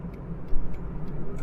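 A 1996 Ford Laser Lynx at highway speed, its engine pulling steadily toward 3,000 revs under a continuous rumble of road and wind noise, with faint regular ticking sounds in the cabin.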